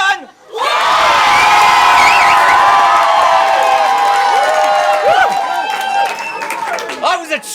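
A comedy improv cabaret audience erupts into loud, sustained cheering, whooping and whistling with clapping, a dense crowd roar that holds steady for several seconds before easing slightly near the end.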